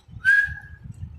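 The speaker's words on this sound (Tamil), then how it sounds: "அங்கே பாரு விசில் அடிக்குது ரோசி" Rosie, a pet parrot, whistles a single clear, sustained note, rising slightly and then holding steady, over a low, steady background rumble.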